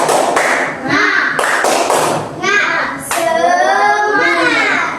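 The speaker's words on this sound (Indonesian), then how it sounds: "tepuk tangan untuk kita semua" Children in a classroom clap together in a few quick bursts, mixed with lively young voices talking and cheering in a bright, echoing room.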